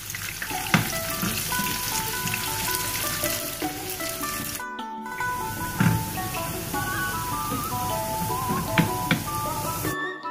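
Cooking oil heats and sizzles steadily in a frying pan for onions, a continuous bright crackle with two brief cuts to silence and occasional louder pops.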